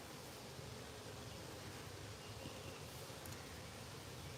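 Bees buzz around a box set in tall grass, a faint, steady, diffuse hum under soft outdoor noise, continuous without talk.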